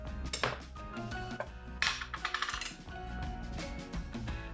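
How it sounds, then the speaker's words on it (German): Soft butter or margarine being beaten with sugar and eggs in a bowl, giving quick clinking and scraping knocks of a utensil against the bowl, fairly faint and uneven, with no talking. "Wir nehmen eine weiche Butter oder Margarine und die schlagen wir mit dem Zucker und mit den Eier schön auf."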